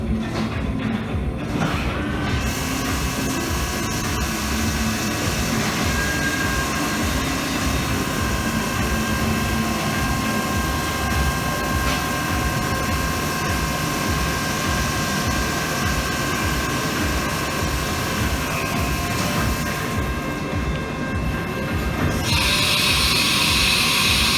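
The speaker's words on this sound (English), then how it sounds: "Now we're going to grab a bigger bit for the center two holes for the bushings, and then it's ready to bore." A machine bores bushing holes into a Highland Park Lapidary Model 16 slab saw carriage with a larger bit, a steady loud whirring drone running throughout with a sharper hiss rising near the end.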